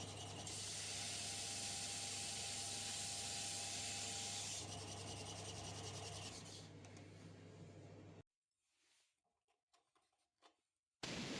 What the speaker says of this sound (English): I must keep sanding.